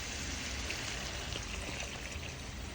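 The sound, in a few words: pouring one litre of water into mutton curry pot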